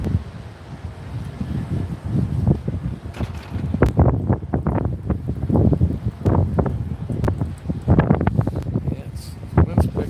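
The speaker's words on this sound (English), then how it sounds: "Yes, wind's picking up here." Steady wind rushing outdoors on a cool fall day in Kansas City, a constant low buffeting roar on the microphone under close talking that runs throughout.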